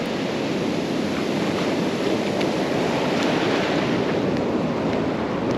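Surging surf waves washing onto a fishing beach, a steady loud wash of breaking water and foam rolling in close by, with faint wind buffeting the microphone and no voices throughout.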